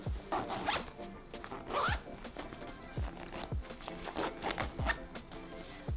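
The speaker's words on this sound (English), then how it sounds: "I'm just gonna do up the dual compression zip functionality" A dual compression zip on a Tropicfeel Nest packing cube is pulled closed in a series of quick, close zipping strokes, each a bright rasp, with soft handling bumps and rustles between them.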